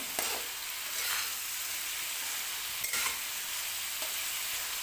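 Carrot pickle masala fries in a pan with a dense, steady sizzle and a few soft stirring scrapes, close and continuous with no voices.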